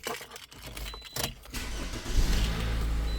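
A 2011 Toyota RAV4 with the 2.4-litre four-cylinder engine cranks briefly and catches, then settles into a steady, close idle that runs to the end, with no voices present.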